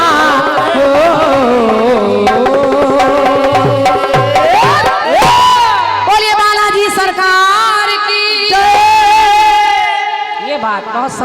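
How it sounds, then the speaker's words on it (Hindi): Audience at a devotional kirtan performance shouts a loud, drawn-out chanted cheer in unison, voices swelling and sliding in pitch over a tonal musical background. "अपने आप जयकारा लगा लेते हैं आप"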